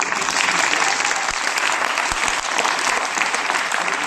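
A theatre audience claps after a play, a steady, loud burst of dense applause with no pauses, filling the whole few seconds.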